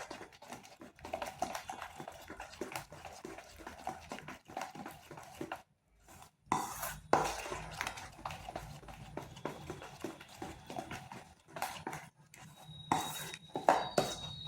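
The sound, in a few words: mixing semolina and yogurt batter with baking powder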